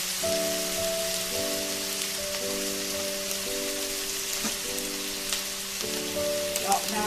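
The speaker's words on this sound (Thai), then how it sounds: "ผัดให้เหลืองๆนะคะ" Crispy fried tilapia and long beans stir-fry steadily in a hot pan with continuous crackling sizzle, while a sustained tonal hum runs underneath throughout.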